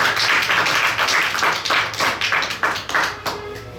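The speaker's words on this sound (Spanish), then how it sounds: "por favor hagamos un aplauso" Theater audience at a live podcast recording claps together, loud and close, in a bright rhythmic burst of many hands that fades slightly near the end.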